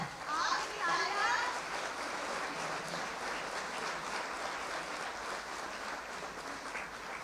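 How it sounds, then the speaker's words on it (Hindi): A crowd claps continuously at a prize-giving ceremony for a Mahavir nirvana festival, a loud even wash of applause with a voice and children's chatter briefly audible near the start. "so बस आपकी तालियां।"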